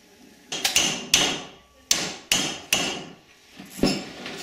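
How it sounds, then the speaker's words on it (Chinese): A hammer knocks about seven times on a carp being prepared as pickled fish, sharp close thuds in an uneven rhythm with brief pauses between blows. "拿一把锤子来敲"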